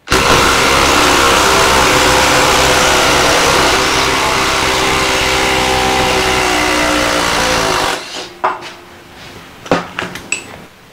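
A Makita impact driver removes a fastener, hammering in a loud, steady, continuous burst for about eight seconds, then stops, followed by a few scattered clicks and clunks.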